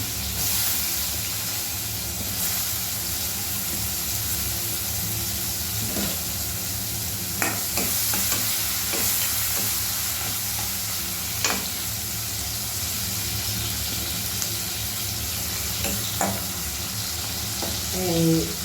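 Capsicum and asafoetida fry in a hot pan, a constant loud sizzle with occasional scraping clicks of a spatula stirring, the hiss steady throughout without speech.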